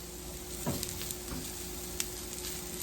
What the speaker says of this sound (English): shrimps don't take that long to grill